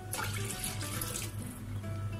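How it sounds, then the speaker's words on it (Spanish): Water runs steadily into a glass while making ayran, a continuous close splashing pour that is quiet and alone, with no talk. "Añadimos un vaso de agua medio lleno."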